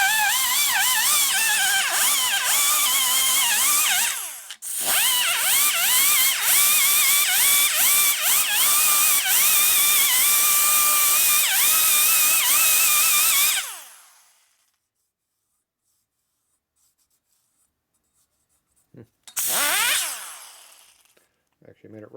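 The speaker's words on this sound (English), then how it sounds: "I like small grinders, you can get them inside the port." A small grinder ports the aluminum cylinder head of a 1950 Harley-Davidson Panhead, a loud high-pitched whine that runs steadily for about thirteen seconds with one brief pause, then stops and returns in a short final burst.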